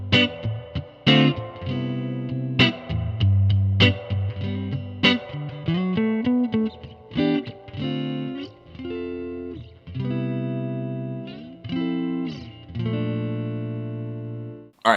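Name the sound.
electric guitar through amp turned up to 15 watts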